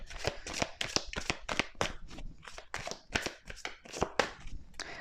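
Tarot cards are shuffled by hand, a quick run of crisp riffling slaps and flutters repeating steadily at close range, with no talking.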